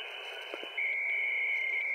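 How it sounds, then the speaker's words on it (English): VARA HF data modem tones come over an HF radio, an Icom IC-705: a low hiss, then a steady, piercing warbling tone that holds to the end. "So that is what VARA HF sounds like old modem sounds"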